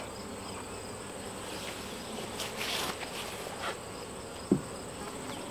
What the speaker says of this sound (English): the bees will fly back out and into the hive